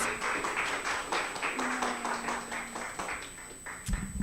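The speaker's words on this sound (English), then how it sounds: "Give her a round of applause." At a suicide and recovery awareness fundraiser, the audience claps for a speaker coming up, giving a moderate burst of individual claps that thins out toward the end.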